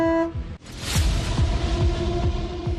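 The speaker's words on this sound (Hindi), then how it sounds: "हॉर्न बजाना जरूरी है।" Car horns honk loudly and repeatedly in busy road traffic, with a steady tonal blare over a dense, continuous rush of engines and passing vehicles.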